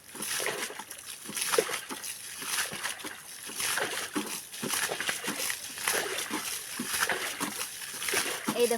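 Fish leap and splash in receding shallow water in an Andaman Islands forest stream, giving repeated irregular splashes and sloshing under a constant hiss of background noise.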